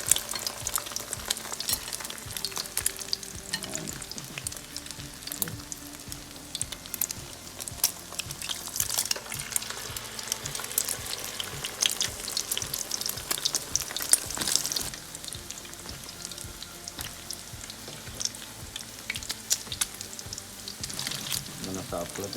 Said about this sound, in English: We're cooking on medium-high heat.